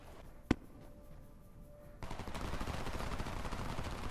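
A single sharp gunshot rings out in the war shooter Homefront, then a denser, steady wash of rattling gunfire and battle noise takes over and continues to the end.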